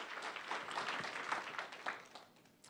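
Fairly faint applause comes from the audience at a panel on open development for Canada and abroad. The clapping is steady and continuous for a few seconds.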